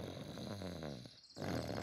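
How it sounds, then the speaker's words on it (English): Low, rumbling snores from a cartoon pig, close and steady, with a brief quiet gap before the next breath. "What's that sound? It sounds like snoring."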